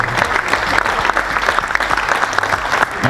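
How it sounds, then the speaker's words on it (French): A crowd applauds at a sea kayak fishing competition prize ceremony on the Île de Ré, a short burst of steady, dense, nearby clapping that holds at an even level. "on va l'applaudir"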